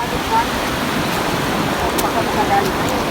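Rough sea waves churn and wash continuously close by at an octopus-hunting spot along the shore, a loud, dense roar with no distinct breaks.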